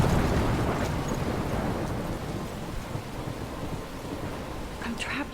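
A thunderstorm rages in Life is Strange, heavy rain roaring continuously with low rumbling thunder underneath, loud and dense throughout, with no talk.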